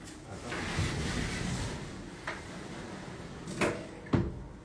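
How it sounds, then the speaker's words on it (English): A door in a modern condo swings shut, with soft shuffling followed by two sharp knocks and clicks near the end, close by, with a little quiet talk in the room. "Close this door."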